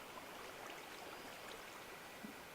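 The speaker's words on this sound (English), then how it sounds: "Just a little waterfall." Water spilling down a small homemade waterfall, a steady close rushing hiss with no breaks, even and continuous throughout.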